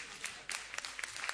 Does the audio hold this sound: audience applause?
yes